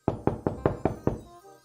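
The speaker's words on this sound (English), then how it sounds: "Just then, there was a knock at the door." Six firm, evenly spaced knocks strike a door in a steady rhythm, each a short hollow thump. They are close and clear, with nothing behind them, and a brief quiet tail follows.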